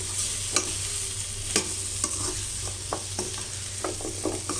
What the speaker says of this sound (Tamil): இந்த முருங்கைக்காவை இதில் போட்டுட்டு அதையும் நல்லா கிளறி கொடுக்கலாம்